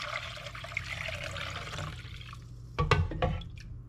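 Chicken broth splashes onto a kitchen counter in a short burst of liquid spattering and dripping, near and fairly loud, after a stretch of quieter background kitchen noise.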